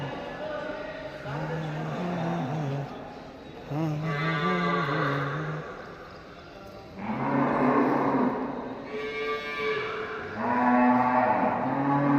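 Several cattle and buffaloes moo in long, drawn-out calls at a cattle market in Davanagere, some near and loud, others overlapping, over a murmur of background activity.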